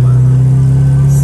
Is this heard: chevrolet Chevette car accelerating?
yes